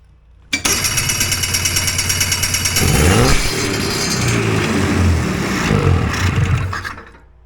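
A Hurricane hovercraft engine sputters to life with a sharp start, then runs at a steady throbbing idle, revving up and down before winding off.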